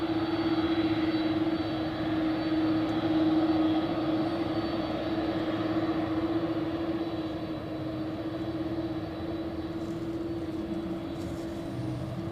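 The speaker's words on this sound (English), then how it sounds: "Here we have the MyFreighter 767 to Ostrava without winglets." A steady, droning engine hum with a strong constant tone comes from a MyFreighter Boeing 767 jet without winglets at Zurich Airport, heard at moderate distance and fading slightly, with no talking.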